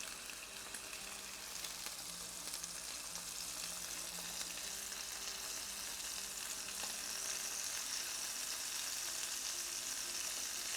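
Food frying in olive oil in a pan for chicken pot pie, a steady dense sizzle that stays even and close throughout, with no talking.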